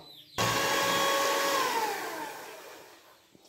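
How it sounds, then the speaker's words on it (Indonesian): An electric mixer whirs through birthday cake batter with flour, starting abruptly and holding a steady high whine whose pitch slowly sags as it works, close and alone. "Kita mixer sebentar supaya nggak ada tepung-tepung yang menggumpal teman-teman."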